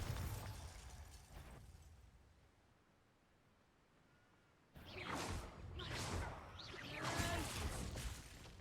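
A Bombarda spell explosion in a Harry Potter video game: a sudden loud blast bursts in after a quiet stretch, followed by several whooshing, crackling bursts that trail off.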